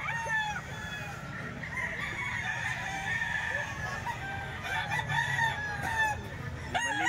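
Chickens cluck and roosters crow repeatedly at a Filipino poultry seller's place, close and fairly loud over a steady background hum, with faint voices mixed in.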